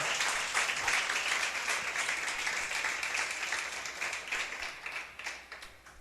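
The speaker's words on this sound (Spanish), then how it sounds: "dale fuerte el aplauso al Señor en esta mañana" A church congregation applauds during a Sunday morning service, a fairly quiet, distant wash of clapping that swells early and slowly tapers off toward the end.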